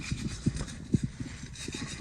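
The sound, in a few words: sanding rust off a wheel bearing part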